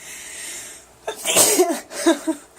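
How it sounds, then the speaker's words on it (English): A single loud sneeze with a sharp intake and burst, followed by a couple of smaller sniffly aftersounds, close to the listener. "This time around, I have to sneeze."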